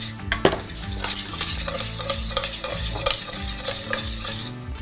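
Shallots and mushrooms stirred in a hot pan with butter, a steady sizzle under repeated scraping and clinking of the utensil against the pan, close and continuous with no talking.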